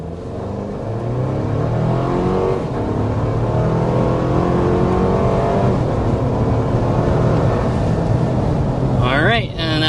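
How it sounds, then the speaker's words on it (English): Honda Passport or Toyota 4Runner SUV with a V6 accelerating hard to 60 mph on a downhill road, a loud steady engine drone rising in pitch from inside the cabin, with a brief rushing whoosh at the end. "Taking us up to 60 miles per hour."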